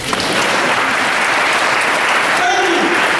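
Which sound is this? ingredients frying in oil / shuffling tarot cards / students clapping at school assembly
students clapping at school assembly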